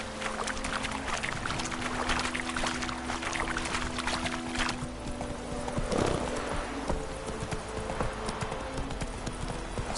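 Hooves of Roach, Geralt's horse in The Witcher: Wild Hunt, clopping in a steady rhythm at close range over a continuous outdoor ambience, no talking.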